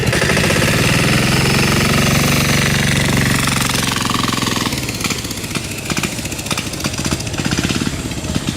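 A turbocharged 10HP diesel go-kart engine runs loud and close with a harsh, hammering chug; its tone drops about halfway through into a rougher, uneven pulsing.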